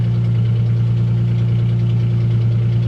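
A car engine idles steadily through an aftermarket exhaust with the mufflers missing, making a loud, deep, continuous rumble with a slightly uneven throb, close by and with no talking.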